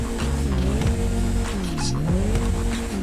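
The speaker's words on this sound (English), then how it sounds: "As you can see right here, the engine." A Karin Futo GTX sports car in GTA Online revs and idles close by, its engine pitch rising and falling in a few swells with faint tire squeal, steady and fairly loud without talk.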